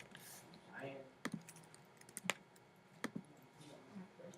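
Someone types a password on a computer keyboard: a few sharp, quiet key clicks at irregular intervals, close and soft, with faint talk in the background.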